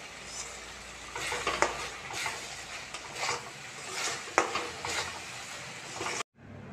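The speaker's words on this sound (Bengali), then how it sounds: "এটাকে মশলার সাথে ভালোভাবে মিশিয়ে একটু নাড়াচাড়া করে নেব" Tomatoes and spices fry in a pan over a medium flame for a potol chingri base. A steady sizzle runs under repeated scraping stir strokes, then cuts off abruptly into silence.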